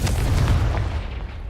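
A Confringo fire spell explodes in Hogwarts Legacy, one deep heavy boom with a rumbling low body that swells briefly and then fades over about a second.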